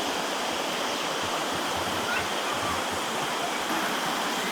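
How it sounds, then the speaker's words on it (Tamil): Water gushing steadily from a pipe at Thirumoorthy Hills, a dense, continuous broadband rush with no break, close and fairly loud, heard alone without any talking. "அந்த பைப்லேருந்து வருது தண்ணி."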